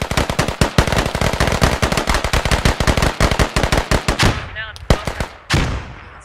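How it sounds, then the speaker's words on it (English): Sustained automatic gunfire in the tactical shooter Squad, rapid close bursts in a fast rhythm that thin out into a few scattered, echoing shots at the end. "Where the fuck is this guy that keeps fucking shooting at us?"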